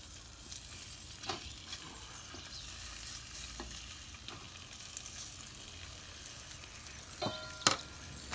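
Quiet, steady sizzle of bacon and onion burger patties cooking in a pan, with occasional soft pops and crackles.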